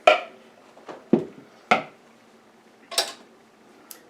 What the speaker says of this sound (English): so scramble your egg